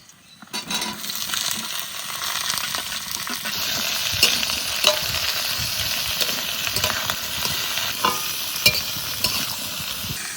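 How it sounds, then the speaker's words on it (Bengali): Pointed gourd frying in a pan with fried green and dry chillies and garlic, a steady close sizzle with stirring scrapes and small clinks throughout, no talking. "কাঁচা লঙ্কা, শুকনো লঙ্কা, রসুন একটু ভালো করে ভেজে নিয়েছি, এবার পটল দিয়ে দেবো।"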